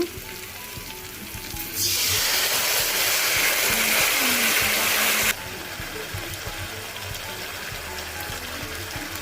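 A paste of chilli, tomato and soy sauces with vinegar hits a pan of fried onions and capsicum for chilli potatoes, a loud hissing sizzle that surges, holds for a few seconds, then cuts back to quieter frying.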